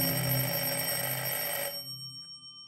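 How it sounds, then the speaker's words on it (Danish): An old wall-mounted telephone in a rectancy's entrance hall rings with a steady metallic bell, loud and close, then stops abruptly and leaves a fading ring-off tail. "Det er telefonen på væggen i entréen, der ringer."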